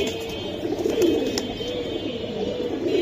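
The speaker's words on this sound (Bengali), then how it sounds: "আল্লাহর রহমতে খুবই সুন্দর কবুতর" Pigeons coo steadily at a crowded pigeon market, a low continuous burbling of several birds close by with faint background noise and no talk.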